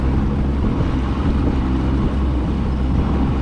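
A boat engine rumbles low and steady, close by, with a constant wash of wind and water noise and no voices, out on Indiana floodwater.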